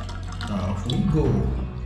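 Water running in a newly finished bathroom of a house in Jamaica, a steady close hiss and trickle with a faint gurgle, lasting under two seconds while someone speaks over it.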